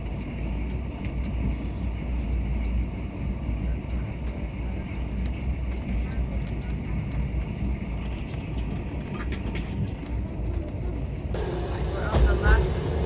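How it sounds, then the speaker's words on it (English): Passenger train rolling through Norway toward Nesbyen, a steady low rumble and rattle heard from inside the carriage, continuous throughout, with a brief shift in tone near the end. "We're on the last leg of the train journey."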